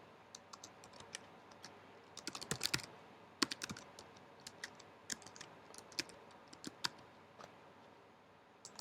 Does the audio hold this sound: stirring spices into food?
no